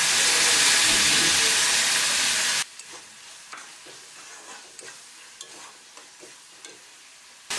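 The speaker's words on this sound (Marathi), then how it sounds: "कांदा आपण सोनेरी रंग येईपर्यंत परतणार आहोत।" Chopped onion with salt hits preheated oil in a pan for ridge gourd bhaji with a loud, hissing sizzle. The sizzle drops off suddenly to quieter frying, broken by intermittent scraping stirs.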